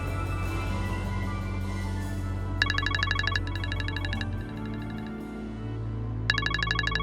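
A phone ringtone chirps in repeated bursts of bright electronic tones over a low background hum, starting partway through and returning near the end.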